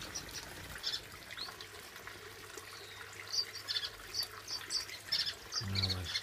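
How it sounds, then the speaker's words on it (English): Finches flutter and call inside an aviary, with faint high chirps and soft wing flurries scattered through the clip over a low background hum, louder near the end. "Mayhem. Birds flying everywhere."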